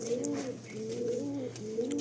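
Repeated pigeon coos in three swelling, throaty phrases, near and clear against a steady background hum, with no voices.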